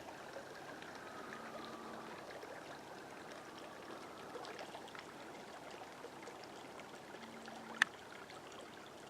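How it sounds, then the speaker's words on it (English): Groundwater seeping out of sandy ground into a creek near a marsh, a faint steady trickling wash in open air with a soft low hum and a brief click near the end. "hundreds of water seeps coming out of the ground"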